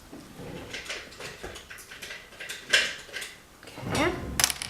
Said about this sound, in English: Now let me grab my scissors real quick.